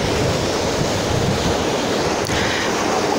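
Ocean surf rolls in on a windy day, a loud and continuous roar of breaking waves. Wind buffets the microphone, and there is no talking.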